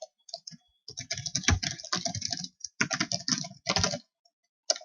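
Typing on a computer keyboard while entering a C printf program, a close, crisp run of key clicks in quick irregular bursts with short pauses, no voices over it.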